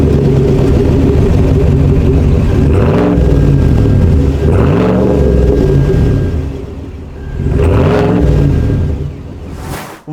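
A lifted 2025 GMC Yukon with a 6.2L V8, Whipple supercharger and Borla S-Type dual exhaust revs repeatedly, three or four loud deep throttle blips rising and falling over a rumbling idle, close by and with no talking.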